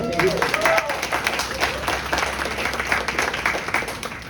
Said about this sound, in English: So second applause for Vivian.